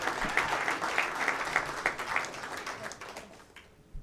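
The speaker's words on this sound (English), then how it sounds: "Clap for Christian, everybody" Applause from a comedy club audience, many hands clapping at a moderate, slightly uneven level for a few seconds before tapering off quickly.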